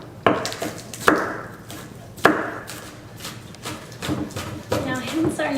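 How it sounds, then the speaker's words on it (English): Knife chopping vegetables for an Asian slaw, trimmed ends first, on a cutting board: several sharp separate chops spaced about a second apart, close and fairly loud, with light kitchen clatter between them. "we're just going to take the ends off here, and again go through our same technique of chopping"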